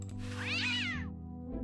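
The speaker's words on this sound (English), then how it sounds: "Aw, kitty. What a pretty pussycat." A cartoon cat meows once, a bright rising-and-falling call in the Day of the Tentacle video game, heard clearly over a steady low musical background.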